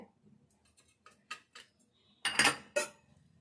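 Spring onions and green chilies are pounded coarsely for maize vadas, giving a series of sharp, irregular knocks that grow louder near the end, with no talk.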